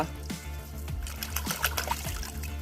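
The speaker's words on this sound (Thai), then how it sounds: "ฉีดเอาน้ำฉีดเข้าไปครับ" Water sprayed hard into the clogged nozzle of an old spray can, a rushing, spattering hiss with small splashy bursts over a steady low hum, close and continuous, with no talking.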